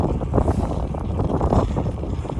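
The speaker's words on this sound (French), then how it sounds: "Là je vous tape un gros vent de face, c'est vraiment relou." Strong headwind buffets the microphone with a heavy, gusting rumble throughout, loud and continuous with no voices.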